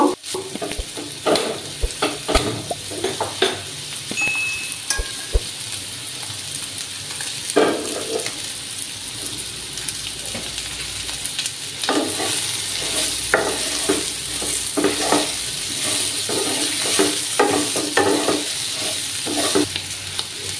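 Spices with turmeric powder fry in a pan for a Bengali kakrol curry, a steady close sizzle with repeated scraping stirs of a spatula and a few sharp taps, no voices.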